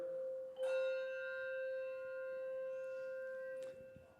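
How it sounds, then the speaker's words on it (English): Three handbells, the chime, silver and bell, struck together on one shared note, ringing out in a single clear sustained chord with bright overtones that hangs for about three seconds before being damped, with no talk over it. "You'll have your chime, your silver, and your bell."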